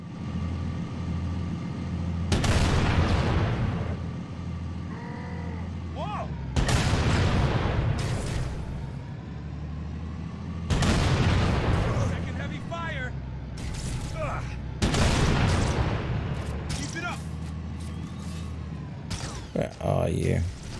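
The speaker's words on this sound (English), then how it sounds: "Firing main cannon." Tank main cannon firing in the Halo video game, several loud booming blasts spaced a few seconds apart, each with a sharp onset and decaying rumble, heard over gameplay with a player talking.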